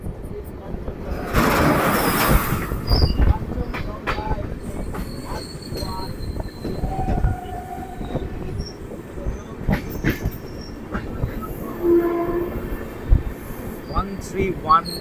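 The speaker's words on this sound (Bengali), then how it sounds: "বলতে বলতে কিন্তু চলে এসছে 13176 কাঞ্চনজঙ্ঘা এক্সপ্রেস" The Kanchenjunga Express 13176 pulls into Kishanganj station while crossing another train, heard as a heavy, continuous rumble of passing coaches with rattling clatter and several shrill wheel squeals throughout.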